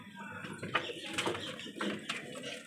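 A pair of young Giribaz pigeons in a loft coo in low, repeated throaty bursts. The calls sit close to the mic and run almost continuously, with a few louder swells and some faint higher chirps mixed in.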